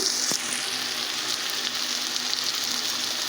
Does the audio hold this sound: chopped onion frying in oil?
yes